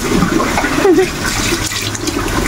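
Water splashes and gushes steadily as it is poured over a pet during a bath, a continuous close-up sloshing with a few brief chirp-like squeaks.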